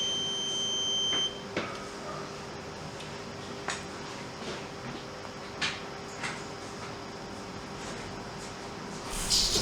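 Oil mist detector head alarm sounding during a test, a faint steady electronic tone held throughout under a low hum, with a few soft clicks and knocks scattered across it.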